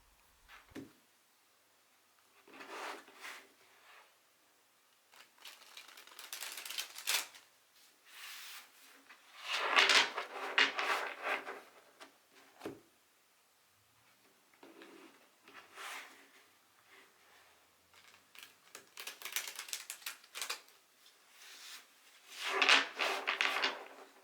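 Tarot cards are riffle shuffled in bursts of soft, rapid fluttering clicks, each lasting a couple of seconds, separated by quiet gaps, close and moderately loud with no talk.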